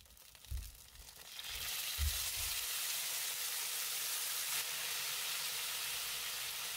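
Soft tofu kimbap mixture with garlic, chopped chili and scallions poured into a frying pan, bursting into a steady loud sizzle after a few soft thuds, continuing close and unbroken with no talk.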